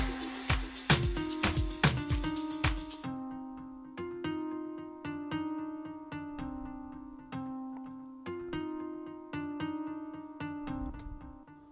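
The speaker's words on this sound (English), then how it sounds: "There's like a nice 12 string guitar." A 12-string guitar sample from the Fabric XL instrument plays bright strummed chords, then a clean repeating picked pattern with steady rhythm, close and alone with no talking.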